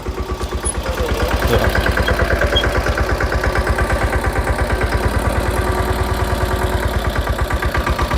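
A small tractor engine running a 5-foot rotavator chugs loudly and steadily nearby, its rapid, even thumping pulse continuing without a break.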